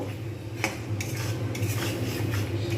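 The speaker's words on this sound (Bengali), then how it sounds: "একটা একটা করে সব দিয়ে দিলাম যা যা দরকার ছিল একটুখানি জাস্ট নাড়িয়ে নেব" Hyderabadi dum biryani ingredients get a quick stir in a pot on a gas flame, with close scraping strokes and light clatter over a steady low hum.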